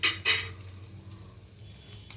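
Masala for stuffed okra being stir-fried in a pan: two sharp spoon clinks against the pan open, then a faint steady sizzle continues alone.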